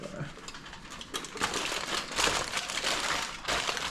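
Foil packet being folded up for grilling sea bass, giving close, continuous crinkling and crumpling that grows louder midway, with a voice talking faintly behind it.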